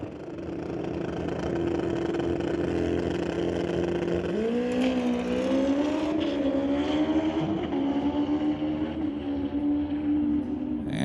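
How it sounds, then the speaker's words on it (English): A drag racing motorcycle roars through a full pass at a test-and-tune session at Mission, its loud engine whine climbing in pitch as it shifts through the gears and carries on steadily to the end, with no talk. "So Steve Abusini going to make another run on the bike, bound and determined to get that bike into the sixes"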